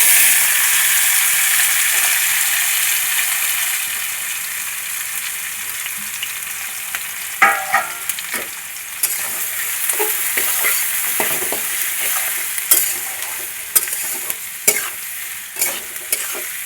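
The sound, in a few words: chopped onions frying in oil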